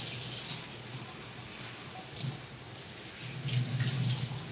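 Soaked rice is rinsed under a running kitchen tap, a quiet, steady stream of water with brief splashy bursts as the grains are stirred.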